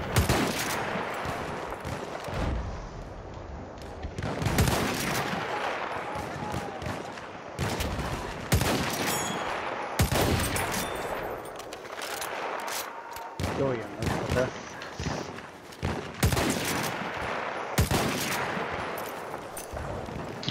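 Machine gun fire in a foggy mountain battle in Battlefield 1 comes as repeated loud bursts and volleys, some near and some farther off, with short quieter gaps between them and an occasional voice underneath.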